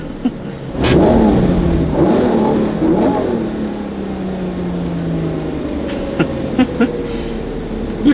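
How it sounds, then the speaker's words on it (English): Lamborghini engine of about 640 PS revving with quick throttle blips, a loud burst of rising engine roar that settles into a lower, falling drone, with a few faint clicks near the end. "Just for that noise when you blip the throttle."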